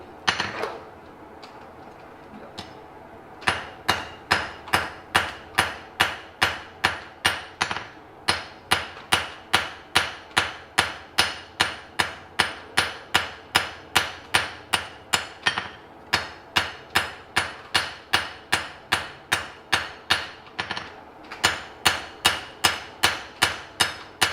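Steady hammer blows on metal at a blacksmith's forge during an evening forging session, dozens of sharp ringing strikes in a fast regular rhythm, close and loud, with a brief pause near the start.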